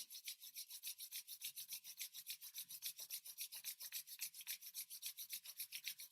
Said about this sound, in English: So let's rub the palms together.